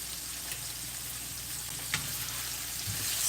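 Food fries quietly in a pan with a soft, steady sizzle while someone stirs it down, adding an occasional faint scrape from the utensil. Together it makes a low, even kitchen background.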